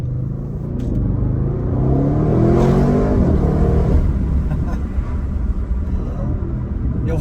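A 2024 Audi RS6 Performance exhaust revs up, its deep engine note swelling and rising near the middle, then settling back into a low, rumbling idle close by.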